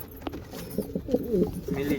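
Newly bought pigeons coo in low, wavering murmurs close by, their calls mixed with a person talking nearby.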